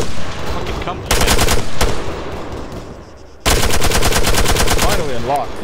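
Automatic gunfire in the military shooter game Arma 3, with two long, loud bursts of rapid shots separated by a quieter stretch of distant firing and background battle noise.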